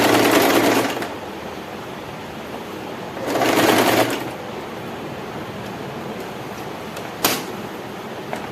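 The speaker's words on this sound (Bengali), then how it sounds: "এখানে আমি একটা লক সেলাই দেবো।" A sewing machine runs a lock stitch on a sari in two short bursts of whirring stitching separated by a quiet pause, with a sharp click later on; close and clear.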